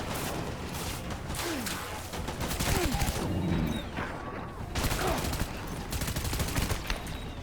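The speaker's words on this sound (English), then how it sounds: "There is someone on a machine gun." Machine gun fire in the video game Death Stranding, rapid bursts of gunfire crackling in dense clusters alongside scattered shots and whooshes, with game voices briefly speaking between volleys.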